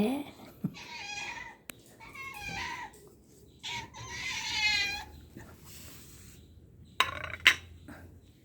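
A cat meows several times in short, rising calls as it is offered rice, with quiet household noise and a few sharp clicks between them.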